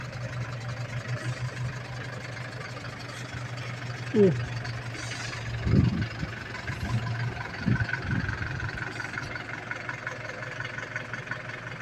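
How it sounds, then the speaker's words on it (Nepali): A school bus engine idles as it warms up before a driving test, a steady low hum close by with a few brief thumps and knocks, and people talk over it. "अलिकति इन्जिन गरम गर्नु हुँदैछ"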